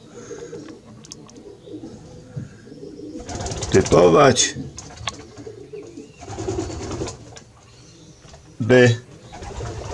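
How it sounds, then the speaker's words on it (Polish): Racing pigeons coo in low rolling bursts close by in a loft, several calls rising over a steady background murmur, while someone speaks over them. "Tutaj prezentuję grupę doskonałych gołębi,"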